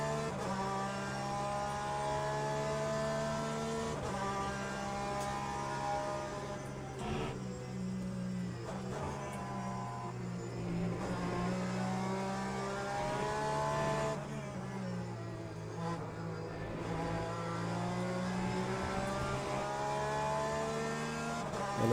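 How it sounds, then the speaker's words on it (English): A Ferrari race car in a racing video game at Sebring pulls away under hard acceleration, its engine note climbing and dropping through several gear changes, loud and continuous for over twenty seconds with no voices. "Let's watch the Ferrari drive into the distance."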